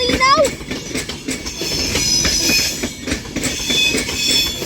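An Avanti West Coast class 390 Pendolino train at Crewe on the West Coast Main Line rolls through with a brief wheel squeal at the start, then steady loud rumbling and clicking of wheels over the rails.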